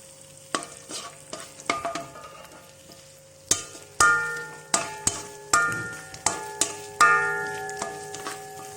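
Onions being sautéed in hot oil in a pan for a sweet soy chicken dish, with a steady sizzle broken by repeated stirring knocks and scrapes of a utensil against the pan, close and without talk.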